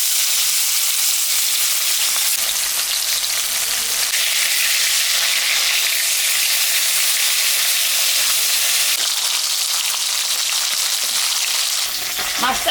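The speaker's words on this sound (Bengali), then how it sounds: "তেল গরম হয়ে গেছে, আমি এখন মাছটা ভাজবো।" Fish rubbed with salt and turmeric fries in hot mustard oil, producing a loud, continuous close-up sizzle that holds steady throughout with no voices.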